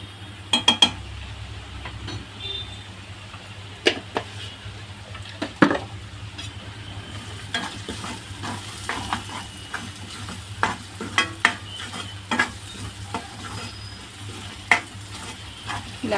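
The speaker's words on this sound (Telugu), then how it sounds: "ఒక నిమిషం ఇవి కూడా ఫ్రై అయ్యాక కాస్త కారం వేసుకుందాము" Onions and green chilies fry with chili powder for an egg curry, a constant close sizzle broken by scraping stirs and sharp clinks of a spoon against the pan, no talk.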